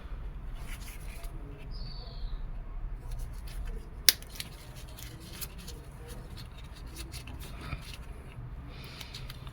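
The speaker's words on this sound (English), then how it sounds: "Then we'll remove this heat shield and we'll cut it short." Scissors trim a small heat shield from a 2005 Toyota Caldina wiring connector, with light snips and rustling handling and one sharp click in a quiet room.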